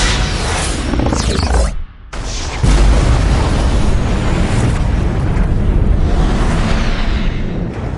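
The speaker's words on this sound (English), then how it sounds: "Massive secondary explosions." Heavy booming torpedo explosions in a Star Trek scene roar over a rushing, windy rumble, with a brief drop-out before a second loud blast that sustains into a long, dense roar.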